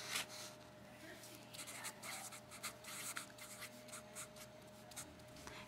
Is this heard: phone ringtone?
no